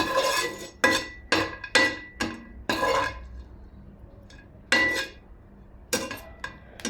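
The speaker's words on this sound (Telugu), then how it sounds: "ఇలా మనం డ్రై ఫ్రూట్స్ వేయించేసుకున్నాము" Dry fruits being fried in a pan: sharp metallic clinks and scrapes of a utensil against the pan in irregular bursts, with brief quiet gaps between strokes.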